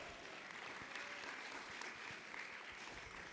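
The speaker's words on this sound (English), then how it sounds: "So let's applaud that" Steady applause from a crowd, continuous clapping throughout at moderate distance.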